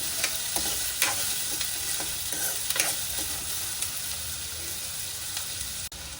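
A large chopped onion frying in a pan for chicken ghee roast, a continuous close sizzle punctuated by repeated stirring scrapes, ending in an abrupt cut, with no voices.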